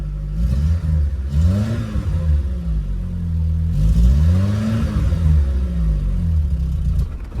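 A small engine run without choke, revving up and down on the throttle in repeated rising and falling surges, close and loud with a rough, uneven rumble.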